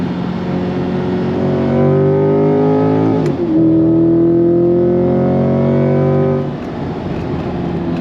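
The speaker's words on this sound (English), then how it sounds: "Love the sound of that V8." A C8 Corvette Z51 Stingray V8 engine revs up in two long, sustained pulls with a brief drop between, loud and close, then settles to a lower idle.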